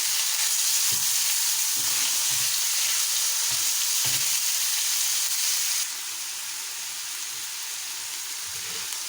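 Chicken pieces sizzle steadily in a hot pan, a continuous frying hiss with a few soft stirring knocks near the start, easing slightly quieter partway through, with no talking.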